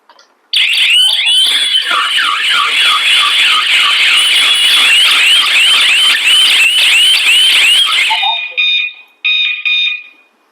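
A smoke detector set off with its own test button shrieks in a loud, continuous warbling alarm for about eight seconds, then cuts off into a few short, broken bursts.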